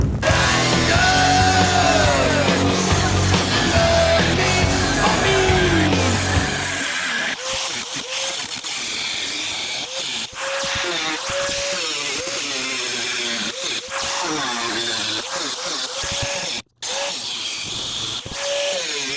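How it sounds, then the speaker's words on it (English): An angle grinder cuts into the metal roof of a box van, a loud, harsh whirring whine that surges and dips in pitch as the disc bites, with brief drops in sound partway through. "Grinder."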